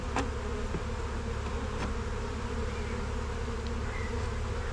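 Honeybees buzz in a dense, continuous drone during a sunny-day hive inspection, many insects close around the open hive, with a few individual bees passing nearer.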